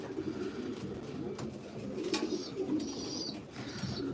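Racing pigeons in a breeder loft coo softly and repeatedly, a low burbling murmur over a faint background, with a few scuffs and rustles among the birds.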